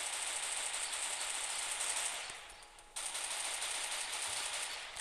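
Rapid automatic gunfire from the battle royale video game Free Fire, a dense continuous burst that briefly drops out near the middle before resuming loud and sustained, with no talk over it.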